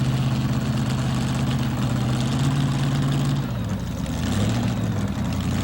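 Lamont's Chevy-powered pulling vehicle at a 1987 tractor pull in Syracuse. The engine holds a loud, steady, low drone that shifts pitch slightly partway through.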